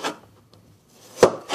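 A kitchen knife scrapes and shaves the skin off a ginger root in short, close rasping strokes: one at the start and two more near the end, with near silence in between.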